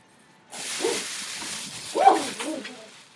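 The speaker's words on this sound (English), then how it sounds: "my dog is barking." A dog barks indoors, with a couple of short barks separated by a pause, heard nearby against a quiet room with some background noise.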